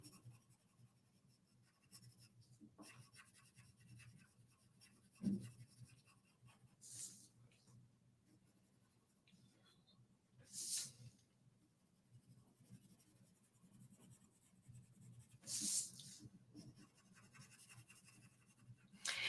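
Colored pencil shading on paper during an art lesson, a soft, steady scratchy rasp that runs quietly and continuously, with a few louder strokes and faint room sounds.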